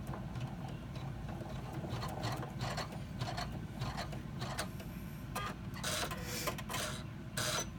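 A sewing machine stitches a flat-bottom bag in short whirring runs, its rhythmic mechanical chatter starting and stopping several times close by, with no talking.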